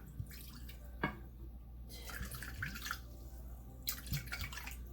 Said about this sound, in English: So now I am putting in the vinegar.